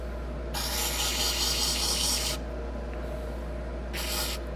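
Sandpaper pressed against a wooden mallet spinning on a woodturning lathe, a raspy hiss in two bursts over the motor's constant low hum.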